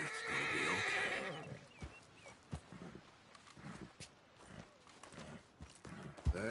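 A horse whinnies loudly up close at the start, followed by steady clip-clop hoofbeats of a walking horse with occasional footfalls and no speech.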